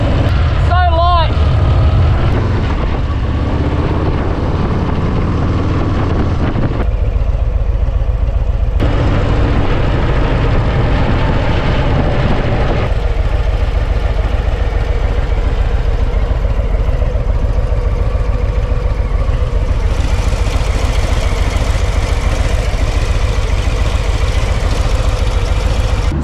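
A Harley-Davidson Low Rider ST motorcycle engine, a loud, deep rumble that idles and revs while riding, with wind noise and someone talking over it.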